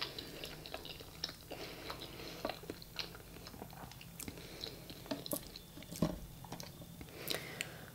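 Bread with seeds being chewed close to the mic, with soft repeated crunching bites and moist chewing in an irregular rhythm, quiet and with no talking.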